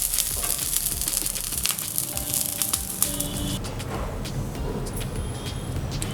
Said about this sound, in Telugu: ఇప్పుడు ఇటువైపు కూడా ఒక 3 మినిట్స్ వరకు లో ఫ్లేమ్లోనే ఉడకనిద్దాం.